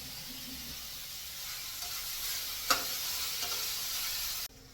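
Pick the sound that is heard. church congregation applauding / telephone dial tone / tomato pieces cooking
tomato pieces cooking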